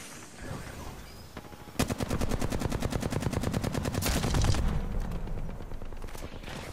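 Sustained automatic gunfire in the Apex Legends video game, a fast, even rattle of shots starting abruptly after a quieter lead-in and continuing loud and close for several seconds before fading.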